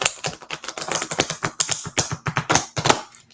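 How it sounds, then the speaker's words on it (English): Tarot cards shuffled quickly by hand, a dense run of crisp riffling snaps and flutters close by, steady and rhythmic for the whole stretch with no talking. "We're just going to quickly do a nice shuffle right here"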